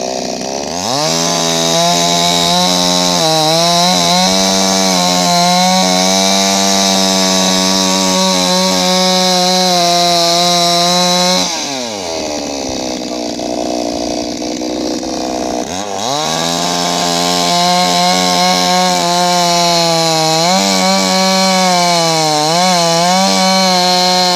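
A chainsaw cuts through firewood, its engine droning loud and close, dropping briefly to a lower idle partway through before revving back up to a steady, high whine while sawing continues; no voices are heard.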